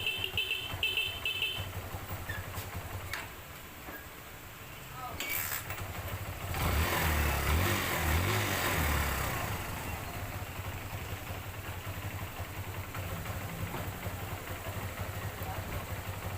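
A Barako 175 motorcycle engine idles with a steady low hum, swelling into a louder rev partway through before settling back to idle, while someone talks over it.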